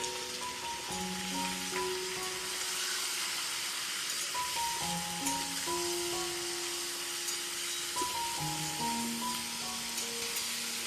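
Onion sizzling in hot oil in a home kitchen pan, a steady, close crackling hiss that runs throughout while music with sustained tones plays over it.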